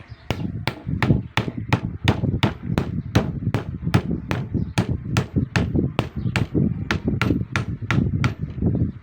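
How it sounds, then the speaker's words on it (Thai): A hammer strikes steel while stripping the coil winding from a washing machine motor, in a steady, rapid series of sharp, ringing taps, over twenty blows at an even pace, close and loud. "ตอกไล่ไปก่อนนะครับตัวนี้ ตอกแรงนะครับ เดี๋ยวเหล็กจะเสียหายค่อยๆตอกไล่ไป"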